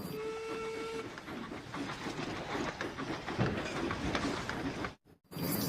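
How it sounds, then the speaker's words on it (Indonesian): A toy train is handled and taken out, giving a faint close mechanical clatter and rustle with a short whistle-like tone near the start and a sudden brief silence near the end. "keluar ini namanya kereta api"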